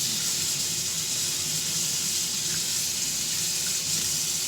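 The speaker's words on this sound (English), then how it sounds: "Just kind of rinse it down and through." Tap water runs steadily over the parts of a Tribest Slowstar slow juicer in a sink, a constant close hiss of rinsing that goes on without pause or talk.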